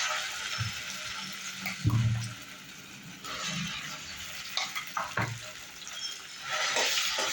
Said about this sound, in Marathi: त्याला तेल सुटेपर्यंत आपण परतून घेणार आहोत